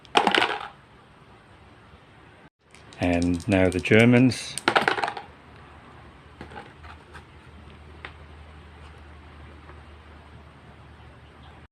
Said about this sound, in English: First I'll dice for the levels of the opposing commanders,